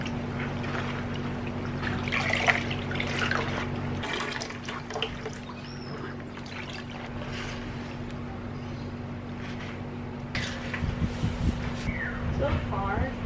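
Tie-dyed clothing rinsed under cold running water with no soap, a steady wash of flowing, splashing water with a low constant hum beneath and a louder burst of splashing near the end.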